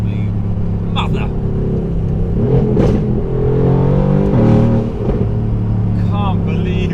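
A 760-horsepower car engine revs and accelerates in loud, rising surges under excited talk, with a steady rumbling drone between the pulls.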